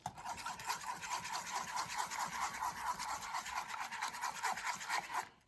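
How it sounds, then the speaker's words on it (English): Flour is mixed by hand into half-and-half for a Madlouka dessert batter, making a steady scraping, rubbing whisk rhythm of rapid repeated strokes close up, with no voices. "I'm gonna add in the flour slowly, and then I'm gonna mix it"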